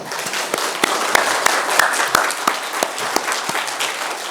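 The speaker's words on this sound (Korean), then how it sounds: "성가대원들 위해서 박수 한번 보내드릴까요?" A church congregation claps for the choir after a Psalm 23 hymn, moderate applause with sharp individual claps standing out over a softer crowd wash, steady throughout.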